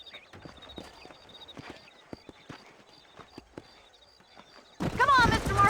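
Horse hooves clip-clop in a steady walking rhythm in a Western video game, fairly close, with a burst of speech and game sound at the end.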